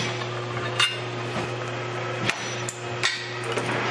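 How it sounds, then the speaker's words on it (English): A few sharp metallic knocks and clanks ring out as the last clutch bolt is removed from a 2000 Honda Civic Si. A steady low hum runs underneath and no one speaks. "let me take the last bolt out"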